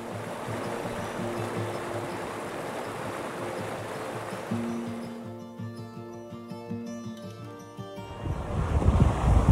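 A rushing glacial river in a Norwegian valley roars as a broad, steady wash of water, with wind buffeting the microphone and a swell of louder turbulence near the end.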